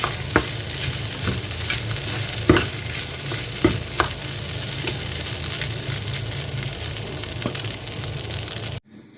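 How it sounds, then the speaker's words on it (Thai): Rice stir-fried in a pan with shrimp paste chili sauce and mackerel, giving a steady close sizzle with repeated scraping stir strokes from a spatula throughout, no talk. "อันนี้จะเป็นผัดข้าวที่กะปิ"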